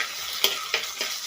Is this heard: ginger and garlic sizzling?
yes